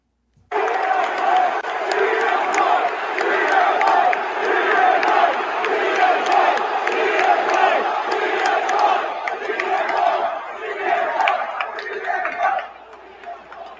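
Arena crowd at an AEW wrestling event roars and cheers loudly and continuously for about twelve seconds, with whoops and shouts over the din, then drops off sharply near the end.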